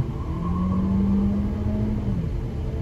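Audi Q2 with a 1.4-litre engine accelerating on an open road, heard from the cabin as a steady engine drone rising in pitch over road rumble.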